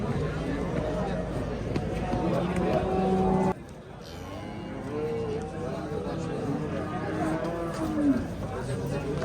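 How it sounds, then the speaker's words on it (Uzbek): At the Uchkuprik livestock market, cattle moo in long, drawn-out calls, one close and loud, over a background of crowd hubbub and traders talking. "Mana sigirdi, dahshat ekan."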